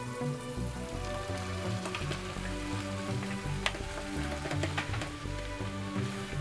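Spaghetti with black garlic sizzles in a hot pan, a dense, crackling fry with scattered pops, steady and close, no voices.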